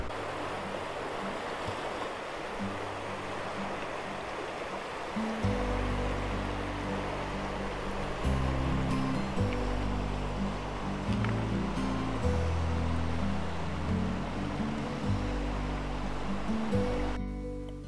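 River water flowing around a wader in a countryside stream in summer, a continuous broad rushing wash with shifting low splashes and swirls, close and steady throughout with no talk.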